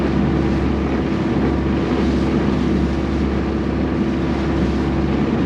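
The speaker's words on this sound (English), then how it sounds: "wind is savage and it's coming this way" Strong wind at sea near a small sailing vessel with a snapped mast, a constant heavy roar buffeting the microphone over a low engine-like drone, loud and unbroken, no voices.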